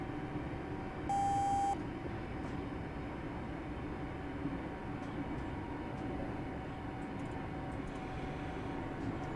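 Steady low rumble of a train in motion in Train Sim Classic on the Glasgow to Dunblane route, with a short electronic beep near the start, heard alone without talk.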